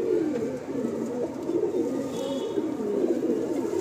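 Loft pigeons coo in a constant low, bubbling chorus that swells and eases slightly while staying close and even throughout, with no one talking.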